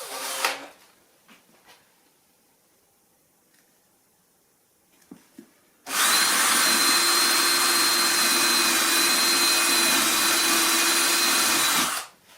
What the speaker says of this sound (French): je vais percer à 8.